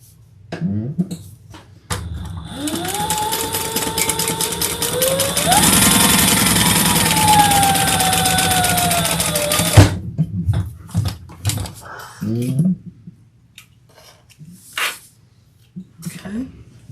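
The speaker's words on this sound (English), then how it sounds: "All right, let's sew that together." A sewing machine joins pieces of a Brunette crossbody bag, its steady motor whir running for about eight seconds and rising in pitch midway before stopping, with brief talk and handling sounds before and after.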